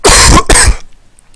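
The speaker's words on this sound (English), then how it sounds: "I'm so sorry about this cough. It's so bad." Two harsh, bursty coughs in quick succession from a nearby person, each lasting about a third of a second, followed by quiet.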